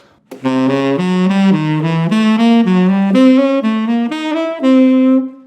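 An electric guitar plays a diminished arpeggio, a rising and falling run of single notes, evenly spaced and sustained, alone with no talking.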